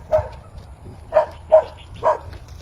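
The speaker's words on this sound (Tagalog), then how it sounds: "Nakatakot yung aso dito," A dog barks four times outdoors along a path through farm fields, with short, fairly close woofs spaced irregularly over quiet background noise.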